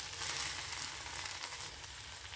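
Okra (lady finger) frying until crisp in a pan with ground masala, giving a steady, soft sizzling hiss with no talk.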